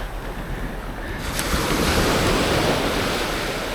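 Calm sea waves wash steadily onto the sand at Canasvieiras beach, a continuous broadband surf hiss that swells slightly after the first second, with some wind buffeting the microphone and no talking.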